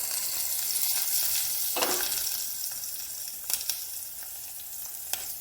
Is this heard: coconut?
yes